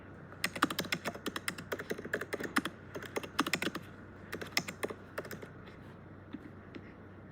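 Quiet, steady typing on a computer keyboard, quick clusters of close key clicks in irregular bursts with short pauses, alone over a low hum.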